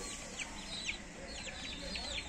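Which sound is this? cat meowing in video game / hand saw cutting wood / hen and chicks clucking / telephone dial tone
hen and chicks clucking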